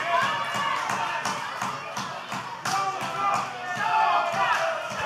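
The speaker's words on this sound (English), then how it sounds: "crowd getting behind Showtime here" A wrestling crowd cheers and claps for Showtime Shanklin at a live match, a steady roar with repeated sharp thuds of ring impacts cutting through, while a commentator talks over it.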